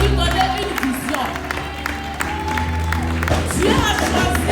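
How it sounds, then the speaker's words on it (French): Congregation at a church consecration service for pastors and deacons applauding, a sustained wash of clapping and crowd noise with a low steady hum underneath, a few louder cheers and voices rising within it. "Vous avez applaudi"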